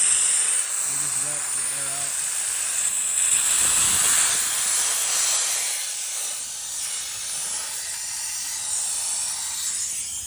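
Air hisses steadily out of an air compressor tank line after its valve is loosened, a loud continuous close rush lasting throughout, with brief talk early on.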